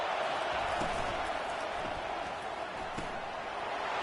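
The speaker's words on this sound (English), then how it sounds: "This crowd bringing the energy and noise early." Steady, dense roar of a large stadium crowd at an Ohio State vs Purdue football game, a broad continuous wash of noise with faint thuds underneath, heard from a distance.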